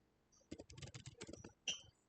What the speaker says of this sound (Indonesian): Pastikan untuk mengetik kembali kode yang sudah kita masukkan.